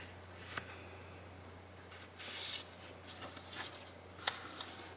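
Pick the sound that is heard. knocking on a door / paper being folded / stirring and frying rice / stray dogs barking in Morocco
paper being folded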